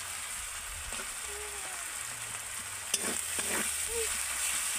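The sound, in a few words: onion, garlic and ginger paste frying in oil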